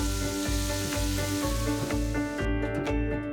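Chicken breast sears in a hot pan, a close, continuous sizzle with a rhythmic pulsing undertone and no voices.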